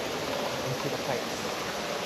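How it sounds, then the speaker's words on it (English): Constant rushing water from a man-made waterfall pours steadily, a dense even roar close by. "So, as man-made waterfalls."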